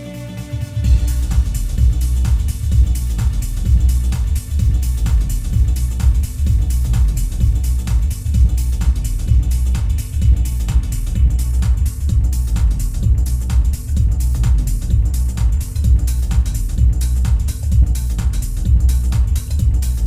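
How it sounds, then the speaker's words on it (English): A steady four-on-the-floor older-style tech house beat with punchy kicks, crisp hi-hats and a rolling bassline, loud and continuous with no vocals. "Like tech house used to sound like this"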